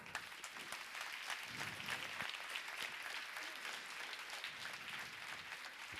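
An audience at a business summit applauds a co-host arriving on stage, a full, steady roar of clapping from a large crowd, heard at some distance and fairly quiet, unbroken by talk.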